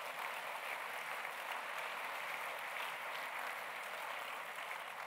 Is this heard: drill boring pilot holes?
no